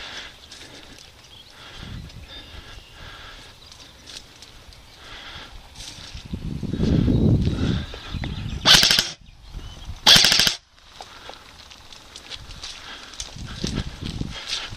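Airsoft guns fire in bursts across an outdoor skirmish field, a dense rattle building mid-clip followed by two sharp, bright volleys, with a low background of movement and distant activity.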